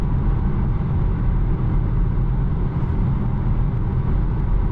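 Inside a Volvo XC40 Electric at 110 km/h on the highway, tire and wind noise form an unbroken low roar that stays level throughout, with no voices.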